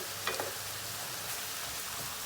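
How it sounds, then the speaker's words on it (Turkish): Onions and peppers frying in a pan, a steady soft sizzle with faint crackles, close and quiet, no voices. "Biberlerle beraber e, soğanları da kavurmaya devam edeceğiz."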